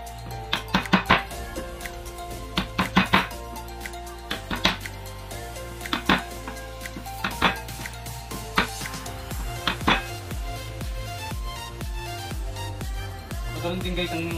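Garlic being chopped into cubes on a board for Filipino papaitan, giving clusters of sharp knife taps in quick bursts, fairly close, with steady background music and some talking in between.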